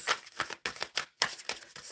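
Tarot cards being shuffled by hand in a few quick, rhythmic bursts of soft riffling with short pauses, close and fairly quiet, no voice over it.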